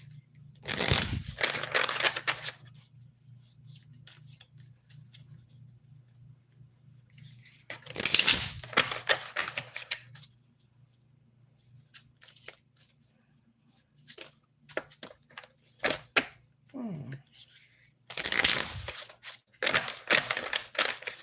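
Tarot cards are flipped and shuffled in several loud bursts of papery rustling and snapping, close by, separated by quieter stretches with faint handling noises.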